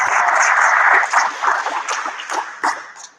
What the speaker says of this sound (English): everybody applaud them being here via YouTube